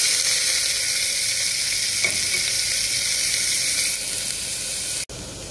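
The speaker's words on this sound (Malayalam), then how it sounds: "സവാള നല്ലപോലെ ഒന്ന് വാട്ടിയെടുക്കണം" Chopped onion sautéing in a pan, a loud, steady close sizzle that carries on unbroken before a brief cut and a slightly quieter continuation.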